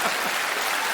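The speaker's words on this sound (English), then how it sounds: "I like the fact the girls from Dundee applauded that." A comedy-show audience claps in a dense, steady burst of applause, close and fairly loud, lasting about a second without talk.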